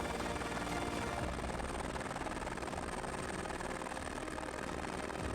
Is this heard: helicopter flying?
yes